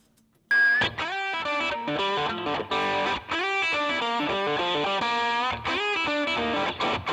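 A heavily distorted electric guitar plays a continuous melodic line, loud and saturated with a fuzzy, buzzing tone, after a brief silent start.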